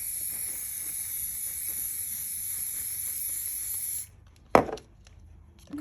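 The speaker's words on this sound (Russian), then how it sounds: "Ну, это масло такое пшикать." Hair oil puffs from a spray bottle in one short, sharp spritz after a long steady high hiss cuts out, leaving near silence before and after the burst.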